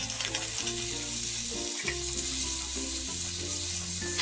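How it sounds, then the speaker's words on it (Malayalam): Washed, drained chicken pieces fry and get stirred in a pan for green chicken curry, giving a steady close sizzle with light scraping over a continuous low tonal background and no speech. "ഈ വാഷ് ചെയ്ത് ഡ്രെയിൻ ചെയ്ത് വെച്ചിരിക്കുന്ന ചിക്കൻ പീസസ് ഇതിലേക്ക് ഇട്ടിട്ട് ഇളക്കി കൊടുക്കാം"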